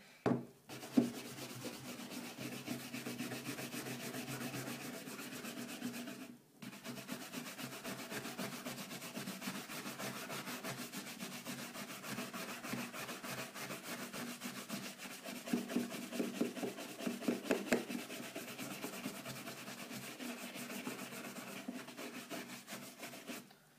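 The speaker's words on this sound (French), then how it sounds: "Vous frottez bien jusqu'à ce que vous voyez que le cuir devient brillant." Cloth or paper towel rubbing polish into a black leather shoe to a shine, a steady continuous scrubbing friction throughout, close and fairly quiet, with one brief pause and no talking.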